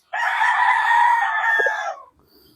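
A young backyard rooster, a stag, lets out one loud, close crow lasting about two seconds, followed by a faint low cluck as it fades, with no talking.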